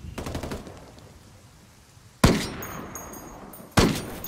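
Two sharp bursts of gunfire in Ghost Recon Wildlands 4v4 PvP, each a loud crack with a ringing tail, following an earlier rattle of faint rapid shots; no talking.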